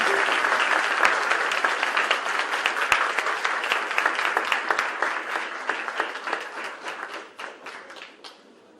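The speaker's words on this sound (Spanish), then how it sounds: "Reiteramos el aplauso fuerte." Audience applause at a political talk on Haiti and the Dominican Republic, a loud, sustained round of clapping with many distinct sharp claps, thinning and tapering off toward the end.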